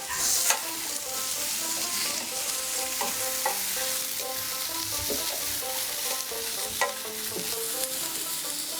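Strips of raw mango frying over a medium-low flame for a chutney, giving a steady close sizzle with scattered clicks and scraping stirs throughout, without any voices.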